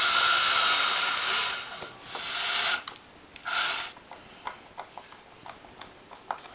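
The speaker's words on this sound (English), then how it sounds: "Drill a little hole." A small drill whirs in a few short bursts, drilling a little hole in wood for a small wooden chest, then stops, followed by scattered light taps and clicks.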